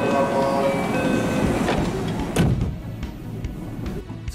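A Special Rapid Service commuter train rumbles and clatters steadily as it pulls out of Osaka Station at morning rush hour, with a brief sharp metallic clank partway through and wheels rolling on rails.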